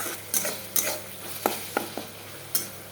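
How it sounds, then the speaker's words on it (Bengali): Egg curry masala being sautéed in oil until the oil separates, a soft low sizzle punctuated by about six sharp spoon scrapes and taps against the pan. "ডিমের মশলাটা খুব ভালো করে কষবেন তেল ছেড়ে গেলে তখন আমি জল দিয়ে দিব"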